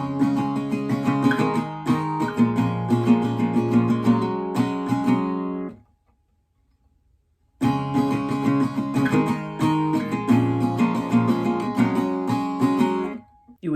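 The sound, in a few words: acoustic guitar playing the song's chord progression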